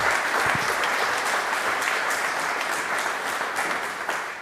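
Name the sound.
audience applause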